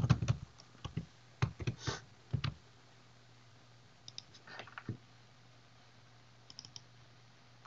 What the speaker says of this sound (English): I click on branch.